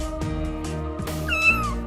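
A cat meows clearly and close up, with a rising, drawn-out cry near the end, set against steady background sounds and music. No one talks.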